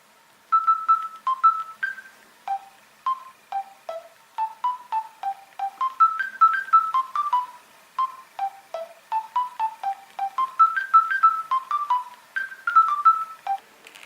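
The Mario Bros theme tapped out as a series of short mobile phone keypad beeps, each tone distinct and fairly loud, forming a quick, bouncy tune with brief pauses.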